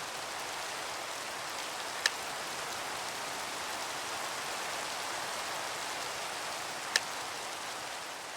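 Steady rain in the Minecraft video game, a continuous even hiss of falling drops with two brief faint clicks, no talking.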